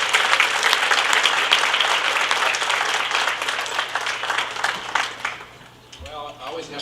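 Audience at a college trustee appreciation and scholarship luncheon breaks into warm, steady applause that fills the room for several seconds, then tapers off as a voice begins speaking.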